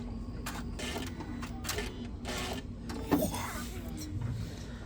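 A sewing machine stitches quilt fabric in short bursts of fast mechanical whirring, close by and moderately quiet over a low steady hum, with pauses between runs.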